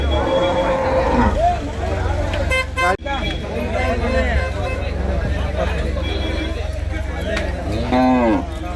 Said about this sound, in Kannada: ಜರ್ಸಿ ಮಣಕಗಳಿದ್ದಾವೆ ಎರಡು